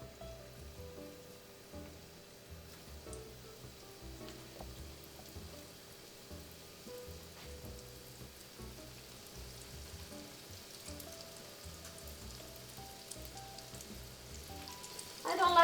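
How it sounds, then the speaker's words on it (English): Beignet dough drops into hot frying oil and sets off a continuous soft bubbling sizzle, like light rain. The sound is fairly faint and even, then swells briefly at the very end. "Now when the oil is hot, you take your beignets and you just drop them in."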